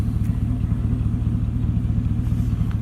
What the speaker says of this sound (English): get some more revs going.